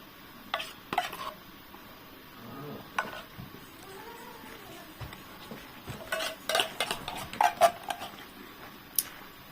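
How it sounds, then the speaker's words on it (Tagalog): Lemon and condensed milk stirred together for a macaroni salad: a spoon scrapes and clinks against a bowl in soft irregular strokes, growing busier toward the end, close by with no talking. "You mix properly the lemon."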